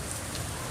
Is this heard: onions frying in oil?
no